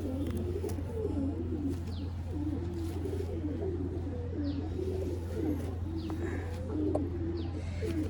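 Pigeons coo continuously at the Lucknow pigeon market, a dense overlapping layer of soft throaty calls with faint chirps over a steady low background hum.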